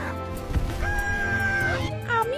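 A rooster gives a single drawn-out crow, moderately loud and close, over a busy mix of other tonal sounds.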